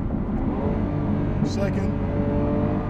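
Lamborghini Aventador SV in Corsa mode downshifting from fourth gear, a loud continuous engine roar heard from inside the cabin with a brief sharp shift crack midway and a voice speaking over it.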